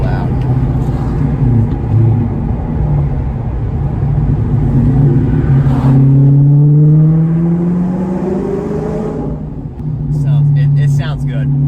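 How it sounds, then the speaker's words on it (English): A 2009 Audi S5 engine revs up and down repeatedly from the cabin. The loud, rising and falling engine note is heard alongside a clutch pedal and gearshift, with a voice talking over parts of it. "I do love how fast this car revs up and down."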